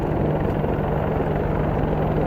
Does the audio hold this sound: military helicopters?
yes